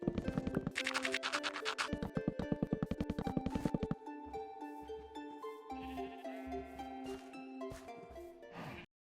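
Sheep bleating in the Minecraft video game, several short wavering bleats repeating in quick succession and then sparser calls with game sounds, loud and close with no talk.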